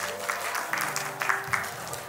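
A crowd applauds at an Anglo-Indian wedding party, steady clapping from many hands filling the room, moderately loud and continuous throughout.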